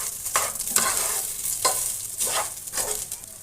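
Ginger paste frying on high flame for a cauliflower biriyani, a loud close sizzle with four or five brisk scraping stirs across the pan.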